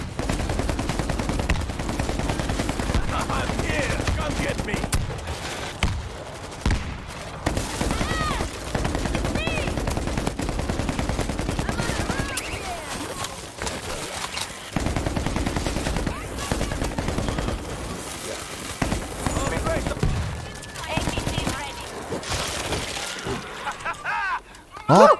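Sustained machine-gun fire from a vehicle-mounted gun in World War Z Aftermath, dense rattling bursts running nearly continuously under excited players' talk.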